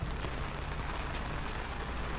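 Rain falls on an outdoor weekly village market, a constant hiss of drops on stalls and ground, with a low steady rumble beneath and no talking.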